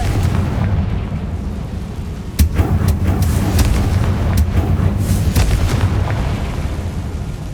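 In Hogwarts Legacy, the Confringo fire spell explodes with a string of punchy booming blasts over a steady rumbling game background.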